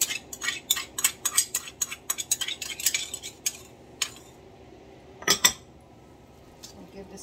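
A spoon clinks against a bowl in a quick irregular rhythm while Guyanese lime sour with salt and homemade hot pepper sauce is stirred, then slows to a few scattered taps and knocks.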